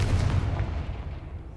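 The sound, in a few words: Confringo blasting spell explosion in a Harry Potter video game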